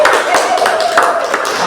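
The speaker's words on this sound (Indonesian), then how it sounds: "Tepuk tangan dulu." Classroom students clapping hands together in a short burst of rapid applause, close and fairly loud, with a faint tonal voice-like line running underneath.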